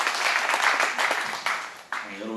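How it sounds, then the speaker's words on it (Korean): A church congregation claps for a pastor, a full burst of applause that fades and then flares again briefly, with a voice speaking over it toward the end. "다시 한번 박수 하도록 하겠습니다"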